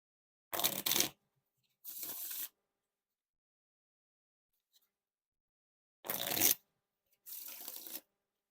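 Therian Wood Edition playing cards are riffle shuffled close up: two pairs of crisp, fluttering riffle-and-bridge bursts, each about half a second long, separated by quiet pauses.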